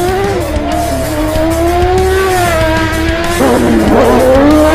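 A racing motorbike's engine revs loud and close, its whining pitch rising steadily and then wavering in a burst of throttle near the end.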